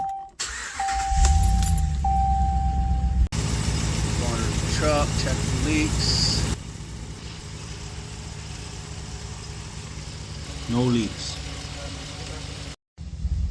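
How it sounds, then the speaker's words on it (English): A Ram 1500 Classic pickup truck engine turns over and settles into a steady idle, rumbling low and continuous under people talking nearby, with a few clanks and jingles in the foreground. "Start the truck and let it run for 5 minutes."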